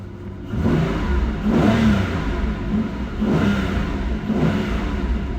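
A car engine revs up and holds in repeated surges to about 3,000 rpm, rising and falling in pitch, loud and close with no talking.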